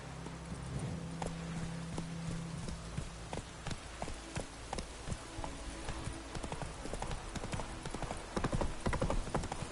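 Horse galloping in The Witcher 3 video game, a fast, steady run of hoofbeats with rumbling movement, close and continuous throughout.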